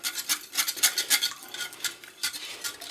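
A spoon stirs cannelé batter made with Maroilles cheese in a bowl, giving quick, rhythmic scraping and clinking strokes that repeat steadily and sound close, with no talking.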